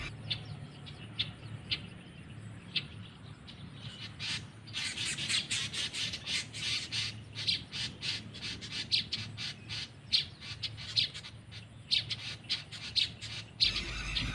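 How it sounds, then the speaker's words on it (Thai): Birds around a golden weaver's nest give repeated harsh squawks and sharp chirps, fairly faint and scattered over a low outdoor hum, growing busier toward the middle and end. "เมื่อแม่นกออกไปเพียง1นาทีก็มีเสียงนกดังขึ้นรอบๆรัง"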